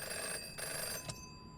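A telephone rings in the video game Five Nights at Chuck E Cheese's Rebooted, giving a couple of bright electronic bursts over a steady hum, and the last burst breaks off short.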